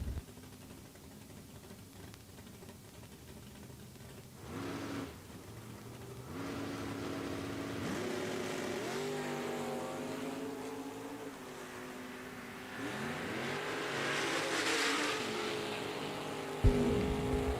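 Drag racing cars, a Camaro in the left lane, launch down the strip at Eddyville Raceway Park during a bracket race: distant, rising engine revs that swell and fade, heard faintly with no one talking.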